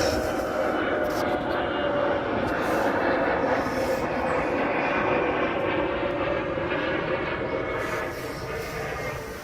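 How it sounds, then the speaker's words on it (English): A plane passes low overhead near Glasgow Airport, a loud, steady jet roar filling the whole stretch and easing off slightly toward the end, heard outdoors with no one talking. "Please excuse the planes, we live very close to Glasgow Airport."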